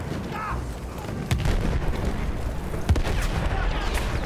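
Sniper gunfire in a video game battle: a few sharp, booming shots at uneven intervals over a busy background of distant fire and noise.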